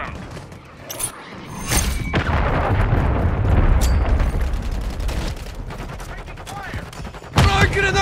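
Sustained rapid gunfire and booms from Call of Duty Modern Warfare 3 multiplayer on the Terminal map, a dense continuous barrage with thuds and sharp cracks and faint game voices mixed in.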